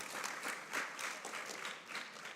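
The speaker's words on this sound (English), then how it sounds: "Give yourself, young ladies, a round of applause for being here and being part of this." Audience of young women at a Girls in ICT event clapping, a brief steady round of applause with soft swells.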